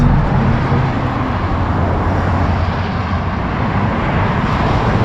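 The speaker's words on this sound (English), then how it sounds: "All of a sudden there's a lot of more traffic" Heavy traffic rushes past a cyclist on a narrow shoulder lined with parked cars along a Southern California coastal route. The sound is a loud, constant roar of engines and tires mixed with wind, with no speech.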